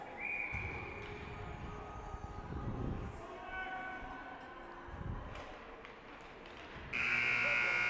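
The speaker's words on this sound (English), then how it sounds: "And there's the buzzer." An ice hockey arena buzzer ends the first period of a youth minor hockey game. It sounds as a loud, sustained electronic tone near the end, after a stretch of quieter, echoing rink ambience.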